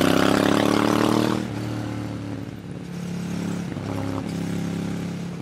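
Ducati Monster 796 motorcycle engine pulling hard while riding, a loud, close roar that drops suddenly as if shifting, then builds again with rising tone, wind rush underneath.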